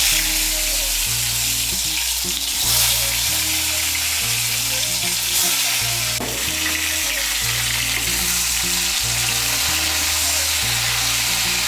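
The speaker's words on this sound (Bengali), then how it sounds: "এর মধ্যে পটলগুলো ভেজে নিচ্ছি" Pointed gourd (potol) frying in hot mustard oil in a kadai, a steady close sizzle that carries on throughout with faint stirring.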